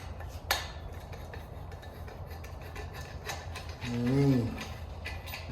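A ratchet loosens exhaust tip bolts on a Dodge Charger Daytona: a few scattered clicks and turns, plus a short squeaky whine near the end, all over a low background hum.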